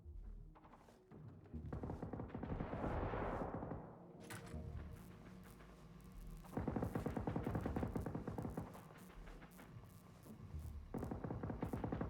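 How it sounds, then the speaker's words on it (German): Gunfire in the video game Generation Zero: repeated shots and rapid bursts crackle at close range over a dense, rumbling layer of game noise, with a brief lull before firing picks up again. "Die Schüsse kommen aus der Richtung."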